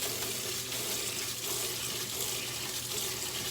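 Tap water runs steadily into a bowl holding rice being prepared for rinsing, a continuous close splashing gush that lasts throughout without any talk.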